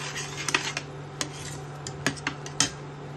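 A spoon scrapes and taps against a pan while stirring melted jaggery with dry fruits, giving soft sporadic clinks over a faint steady hum.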